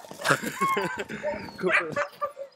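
Sled pack dogs give short yips, whimpers and barks in quick bursts nearby, mixed with people talking.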